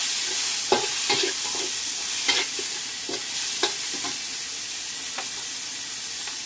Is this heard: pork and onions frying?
yes